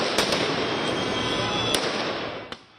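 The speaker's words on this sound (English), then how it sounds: "The demonstrators were seen aiming fireworks at the officers" Fireworks fired by protesters toward police at a night demonstration in central Tbilisi: a continuous dense crackling roar with several sharp bangs standing out, loud and close, then fading at the end.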